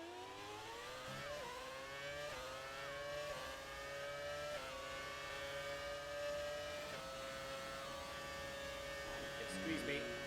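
A 2010 Red Bull Formula 1 car in the racing game F1 2018 screams through repeated upshifts, each high engine whine climbing then stepping down, steady and moderately loud, with brief clicks near the end.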